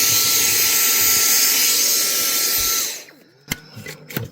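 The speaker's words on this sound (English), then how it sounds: "Clean up the rubbish with a vacuum." A vacuum cleaner whines loudly and steadily at close range, then switches off and winds down, leaving a few scattered knocks and handling noises.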